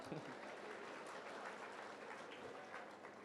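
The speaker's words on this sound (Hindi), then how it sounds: "जोरदार तालियां" A crowd at a spiritual discourse gathering bursts into loud applause, a dense burst of many hands clapping together, sustained and fairly even through a short stretch.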